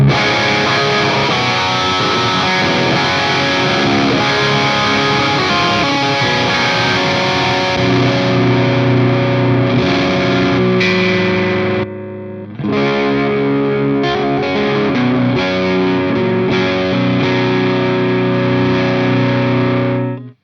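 Heavily distorted electric guitar chugs and rings through a high-gain ENGL Savage amp with a strong midrange, continuous and loud, with one brief gap.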